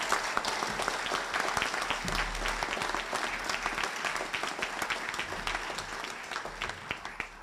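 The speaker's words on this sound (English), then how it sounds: "Give him another round of applause" An audience claps for an honoree at a Prince Hall Grand Lodge scholarships and awards ceremony, sustained applause with crisp individual claps standing out near the end.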